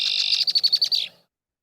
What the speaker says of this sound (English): when they duet, the male and the female red-winged blackbird